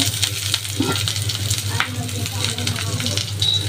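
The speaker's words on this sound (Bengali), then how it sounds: "মরিচটা আমি লাল করে ভেজে নিয়েছি।" Red chilies frying in oil give a close, steady sizzle and crackle, with a low background hum and a few scattered clicks beneath the hiss.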